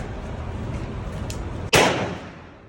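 A single sharp .45 pistol shot cracks out close by at a shooting range, aimed at a wooden target, and rings out and fades over the following second after a stretch of quiet room noise.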